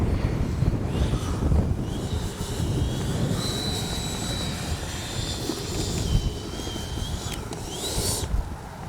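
A Freewing 90mm F-22 V2 RC jet comes in to land with gear and flaps down, its ducted-fan whine steady and fairly distant over heavy wind noise buffeting the microphone.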